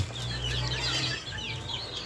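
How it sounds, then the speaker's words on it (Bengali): Vaccinated poultry chickens feed on a farm, giving a continuous chorus of soft clucks and chirps from many birds, fairly close, with a low steady background hum and no talking. "দেখতে পাচ্ছেন আমার মুরগিগুলো খাবার খাচ্ছে এবং তারা ভ্যাকসিনের পানিগুলোও খাচ্ছে"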